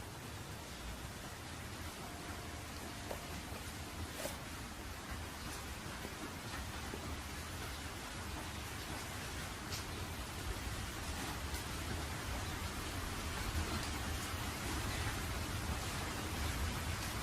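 Steady rain falls in an anime film, a soft, even wash of drops pattering on surfaces. It continues at low level throughout with no speech over it.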